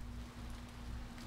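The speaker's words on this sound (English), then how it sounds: "Oh, it's raining." Steady rain hisses continuously under a low, constant hum in the video game Impostor Factory, with no voices.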